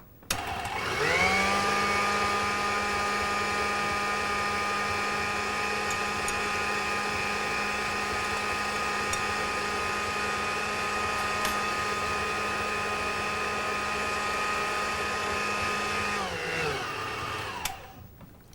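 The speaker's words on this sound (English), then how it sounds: "So I'm going to turn the machine on to maximum speed and continue mixing the egg whites until they're shiny and glossy" An electric stand mixer whisks egg whites and sifted icing sugar at maximum speed, a loud steady motor whine that spins up, holds evenly for about fifteen seconds, then winds down, close and alone.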